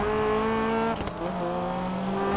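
A Honda Civic in Need for Speed Payback holds a smooth, buzzy, rotary-like engine note with a raspy exhaust, and a brief tire chirp breaks in midway. The car is loud and close, with no talk.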